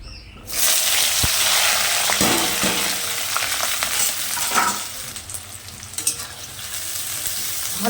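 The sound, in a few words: onion, garlic and green chili frying in oil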